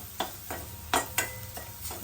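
Chopped onion sautés in hot chili tempering oil, sizzling steadily as a spoon scrapes through the pan in about six distinct stirring strokes at a loose, uneven rhythm, heard up close.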